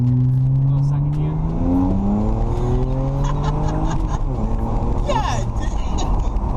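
A BMW 335 engine pulls hard in second gear, its loud rising drone climbing steadily in pitch and filling the cabin, while people talk over it.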